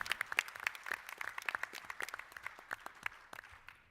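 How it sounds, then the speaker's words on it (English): A small audience at a 2014 voters' education and candidates forum gives the candidates a round of applause. The clapping is quiet and somewhat distant, with individual claps clearly separate, and it thins toward the end. "please give them a round of applause, the candidates"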